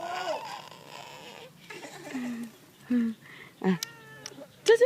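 A cat meows several times, drawn-out and then shorter cries, with people talking softly in between.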